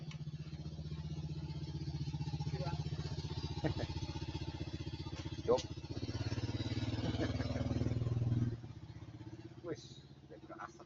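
A motorcycle engine idles and putters steadily nearby, with a rhythmic pulsing beat and occasional clatter, while people talk over it before the engine sound drops away.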